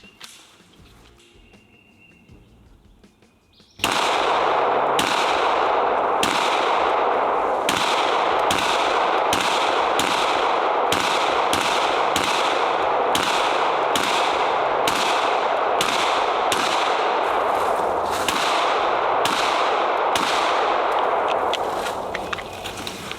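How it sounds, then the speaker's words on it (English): Pistols fire at a shooting range in a long, loud string of sharp shots at a steady pace, each one crisp and close, after a few quiet seconds of background. "Nice shooting, Matt."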